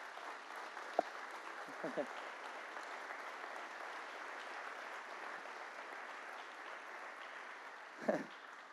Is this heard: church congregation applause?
yes